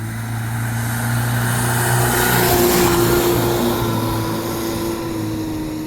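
A Ferguson TEA20 racing tractor, the GRÅLLINATOR V1, holds a loud, steady engine drone that swells slightly toward the middle and eases off again, with no voices over it.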